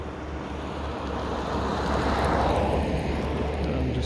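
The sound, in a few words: 3D printed RC plane flying, engine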